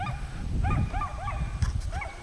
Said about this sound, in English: besides the dog barking